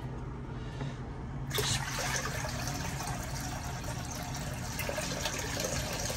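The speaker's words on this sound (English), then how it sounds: "I'm just gonna drain the water slowly and try not to pour the plants out of here" Water drains slowly from a container holding plants into a sink, a continuous trickling and splashing that swells after a quiet start and holds steady, close and moderately loud, with no talking.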